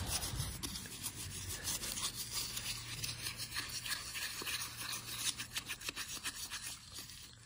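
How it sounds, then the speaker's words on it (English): Steady scrubbing and rubbing on a car transmission being cleaned with Simple Green in a driveway, a close, quiet brushing rasp that continues without pause. "In the driveway, scrubbing the transmission"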